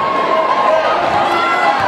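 A sold-out crowd at a high school boys varsity basketball game in Edison High School's Cangelosi Gymnasium roars and cheers loudly and continuously, a dense wall of voices filling the gym.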